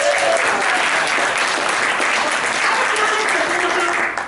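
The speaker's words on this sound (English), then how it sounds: "Let's give him a round of applause." An audience bursts into a sustained round of applause at a goal-setting talk, dense and steady clapping lasting the whole stretch before tapering at the very end.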